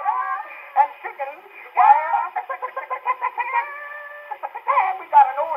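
On an old Victor comedy record, a voice imitates a hen's clucking, a loud, close run of rapid clucks and squawks with brief pauses, carrying the thin, narrow tone of an early recording.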